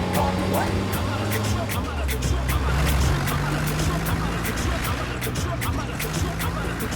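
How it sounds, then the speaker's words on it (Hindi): A motor vehicle approaches in a steady, loud engine rumble with a slowly shifting pitch, mixed with dense background noise throughout in a Hindi-dubbed film scene. "गाड़ी आ रही है"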